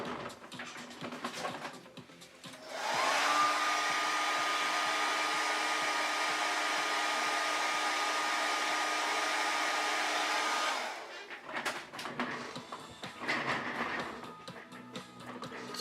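A hair dryer drying paint on a custom statue runs for about eight seconds as a loud, steady close whoosh, with quieter handling noises before and after.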